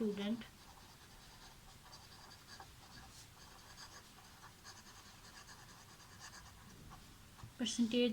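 A pen writes out a math solution by hand on paper, giving a faint, steady scratching under quiet room tone, with brief louder sounds at the start and end.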